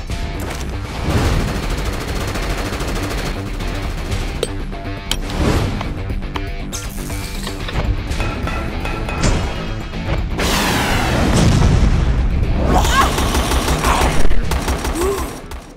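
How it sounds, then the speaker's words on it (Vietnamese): Rapid bursts of gunfire ring out as a player shoots at mutant monsters in Project Gaia, a mobile survival shooter game. Dense repeated shots, crashes and impacts build in intensity over about sixteen seconds. "chủ động xả đạn vào đám quái vật biến dị"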